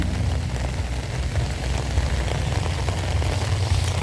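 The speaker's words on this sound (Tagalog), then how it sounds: "Abot po kami ng malakas na ulan." Heavy rain pours down in a continuous, dense roar that stays loud and even throughout, with no voices or other distinct sounds breaking through.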